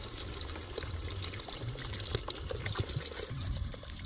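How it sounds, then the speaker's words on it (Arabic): Cold water poured into a cooking pot along its sides around meat, a soft continuous splashing trickle, close and fairly quiet, with no voices. "هسه يا اخوان راح نخلي الماء"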